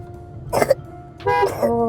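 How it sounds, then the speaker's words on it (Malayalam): Two short coughs a moment apart, close and fairly loud, over a quiet background hum. "ഹസ്ബൻഡിന് ചുമയുണ്ട് ഗൈസ്."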